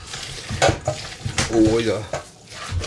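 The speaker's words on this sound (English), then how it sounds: "We gotta go and give that a good old mix." Spaghetti bolognese sauce is mixed with seasonings in a pan, a few close scraping stirs over a low sizzle, with brief voiced sounds among them.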